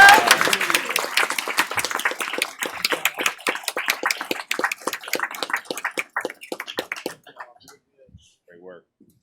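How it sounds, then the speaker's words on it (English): Applause at a school board meeting for a school choir starts as a full burst, then thins into scattered individual claps that trail off over several seconds, ending in near silence. "Let's give the Johnson Choir another round of applause."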